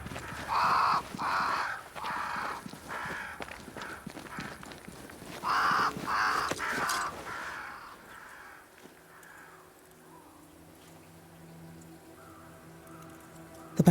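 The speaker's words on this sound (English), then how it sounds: "Crows. They flock to that great tree up there." Crows in the game Banishers: Ghosts of New Eden give two clusters of harsh repeated caws over a faint rainy ambience, then fade to quiet low hum.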